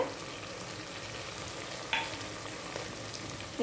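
Tomato and onion sauté in a pan with a faint, steady sizzle, broken by an occasional scrape or stir.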